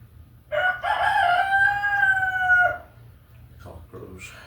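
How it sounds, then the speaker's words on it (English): A single rooster's crow, one long drawn-out cock-a-doodle-doo that rises and holds before trailing off, close and clear over a low steady background hum, with quiet scraping and rustling afterward. "Cock crows."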